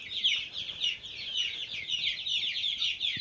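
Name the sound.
Australorp chicks clucking and fluttering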